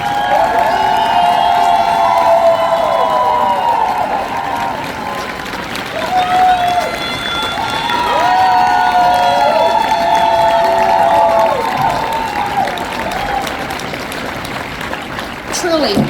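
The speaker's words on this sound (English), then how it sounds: "They deserve a round of applause." An audience applauds and cheers servant leaders as people stand, a loud sustained crowd noise with whoops and raised voices riding over steady clapping for the whole stretch.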